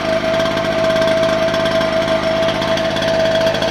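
A Kraft&Dele KD109N petrol generator runs steadily up close, a loud, continuous engine chug with a constant tonal whine held throughout, no speech.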